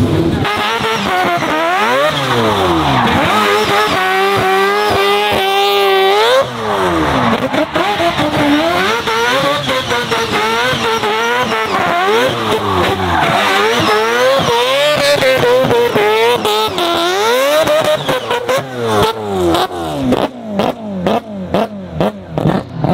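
A drift car's high-revving engine screams loudly and continuously at around 10,000 RPM, pitch climbing and dropping through repeated throttle bursts, ending in rapid stuttering revs. Very close and loud, at a drift event.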